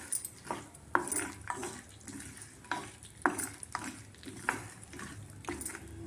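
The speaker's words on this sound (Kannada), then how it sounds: "ಮೊದಲಿಗೆ ಇದು ಕಡಲೆಕಾಯಿ ಬೀಜ ಹಾಕ್ತೀನಿ. ಇದು ಮೊದಲಿಗೆ ಚೆನ್ನಾಗಿ ಫ್ರೈ ಆಗಲಿ" Peanuts frying in a pan, with repeated scraping and stirring strokes against the metal and a faint, steady sizzle underneath, close by and moderately loud.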